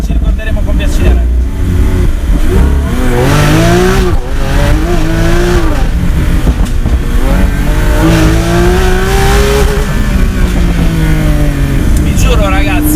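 Lamborghini Aventador S V12 engine pulling hard, its loud rising howl climbing through gears in several sweeping surges, heard from inside the car with someone talking over it.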